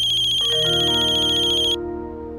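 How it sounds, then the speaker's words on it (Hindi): A bright electronic phone ringtone plays loud and close, a repeating melodic tune that shifts notes partway through, with no talking. "ये वकील साहब क्यों फोन कर रहे हैं मुझे?"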